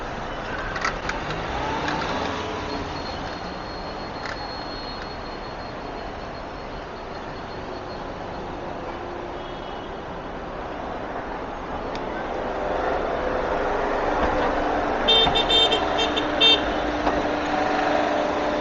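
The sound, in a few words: city road traffic at night with car horns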